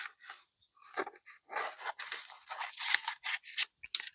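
Scissors cut through leather in close, crisp snips and crunches, coming in short irregular bursts with brief quiet gaps between them.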